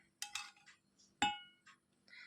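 A large teaspoon handled while preparing a beetroot facial mix, giving a few light, close clinks: two quick taps, a sharper ring about a second later, and then faint scraping touches.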